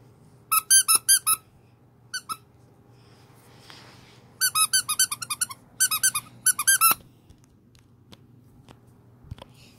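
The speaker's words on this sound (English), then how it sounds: "He talks by squeaking." A character in the video game Cuphead talks entirely in bursts of high, rapid squeaks, several clustered chirping runs spread across the clip with short pauses between them, no speech.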